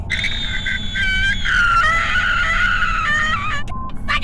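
A cartoon gummy bear in a Robot Chicken sketch, leg caught in a trap, lets out a loud, prolonged, shrill scream that wavers in pitch, breaks off briefly, and resumes before trailing away.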